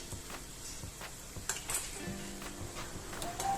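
Green pea vadas fry in oil over a high to medium flame, giving a soft, steady sizzle with occasional light clinks of a utensil against the pan.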